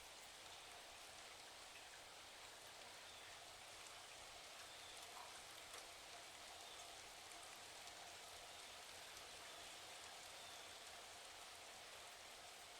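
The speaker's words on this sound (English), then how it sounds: "I embrace the rain, the sounds and sensations." Steady rain falls continuously, an even, soft hiss of drops on surfaces with no breaks, faint and fairly distant, with no voices.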